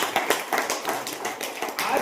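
Audience applause at a live event in a hall, a burst of claps and taps rising and falling over about two seconds, fairly close and moderately loud, with no voices over it.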